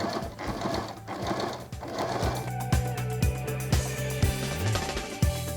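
A sewing machine runs an edge stitch along a garment placket folded half an inch inward, giving a close, rapid mechanical whir with a regular series of heavier clunks as it sews.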